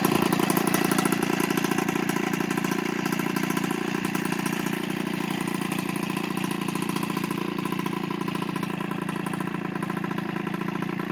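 A 1992 Peugeot 103 MVX moped fitted with a non-homologated exhaust idles close by, a steady, even putter with a fast regular pulse that stays constant throughout.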